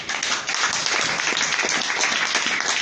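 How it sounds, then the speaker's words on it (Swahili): A church congregation claps and applauds loudly and continuously at a worship service, a dense steady wash of many hands close around, with faint voices underneath. "Pigia Bwana makofi makubwa"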